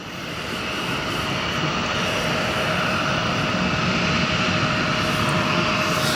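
Jet engines of a Lufthansa Airbus A340 at O'Hare Airport roar in a loud, continuous broadband rumble with a faint steady whine, swelling slightly and holding for several seconds.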